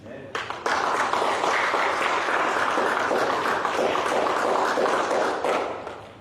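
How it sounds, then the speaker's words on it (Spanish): A church congregation bursts into loud, sustained applause that swells quickly after a few early claps, holds steady and fades slightly at the end. "Cuando le damos un fuerte aplauso a Dios por eso."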